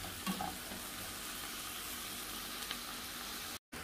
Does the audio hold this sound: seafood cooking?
yes